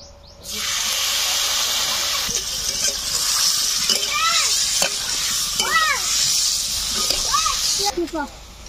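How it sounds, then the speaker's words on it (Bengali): Prawns fry in hot oil with turmeric, a loud, continuous sizzle that starts suddenly and stays close, with voices talking over it in bursts. "চিংড়ি মাছ কিন্তু বেশি ভাজার প্রয়োজন নেই,"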